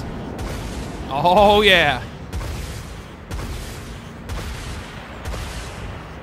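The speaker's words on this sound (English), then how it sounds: "there go our missiles" Missiles launching in the space combat game Dreadnought, a run of sharp bursts and booms repeating about once a second, moderately loud, with someone talking briefly over the first volley.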